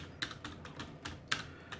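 Soft, rapid typing on a computer keyboard, a run of light clicks at close range with a couple of sharper keystrokes standing out, no voices.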